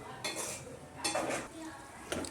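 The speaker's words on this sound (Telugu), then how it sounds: "పెట్టుకున్న ఎగ్ ఫ్రై, చికెన్ ఫ్రై ఇందులో వేసేయాలి. అప్పుడే మనకి సేమ్ మొత్తం వాటితో పాటు అంతా మంచిగా మనం కలుపుకోవాలి" Egg fry and chicken fry tossed into noodles in a pan, with a few scraping, clattering stirs of the utensil against the cookware, close and moderately loud.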